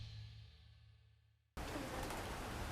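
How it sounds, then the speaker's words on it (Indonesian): Heavy rain pours down in a steady, loud, dense hiss that bursts in abruptly after a quieter low hum, falling in the city around Semanggi, Jakarta. "hujan deres"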